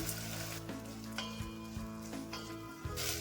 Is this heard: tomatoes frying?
yes